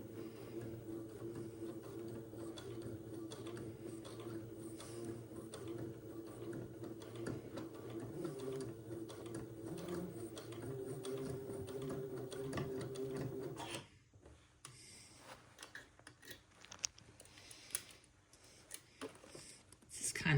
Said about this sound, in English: let me begin to sew at 3/8 of an inch away from the edge of the fabric